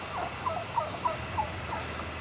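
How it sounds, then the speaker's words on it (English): A rooster among a backyard poultry flock gives a series of short, faint, clucking calls at irregular intervals over soft outdoor background noise. "That rooster right there."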